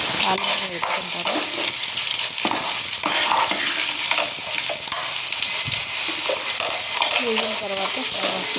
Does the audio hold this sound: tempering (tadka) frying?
yes